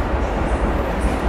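Rumbling passenger train wagons, with no locomotive attached, roll past close by at a Polish station, a heavy continuous rattle and hum with rhythmic wheel thumps, no voices.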